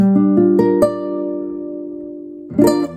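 A barred guitar chord is picked note by note and left ringing, slowly fading, before a second chord is strummed near the end.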